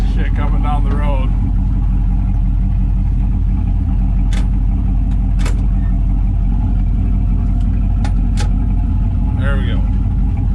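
A turbocharged LS-swapped Mopar car drives down the road with a loud, steady engine drone heard from inside the cabin, and a few brief clicks and ticks rise above it.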